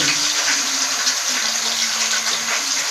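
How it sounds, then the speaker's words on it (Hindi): Chicken pieces fry in hot cooking oil for a biryani, a loud, continuous hissing sizzle that stays steady throughout. "इसमें हम पहले चिकन डालेंगे, चिकन को फ्राई करेंगे, सारे चिकन को गोल्डन ब्राउन करेंगे।"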